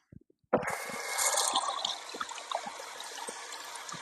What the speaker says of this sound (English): let me wash my hands right quick.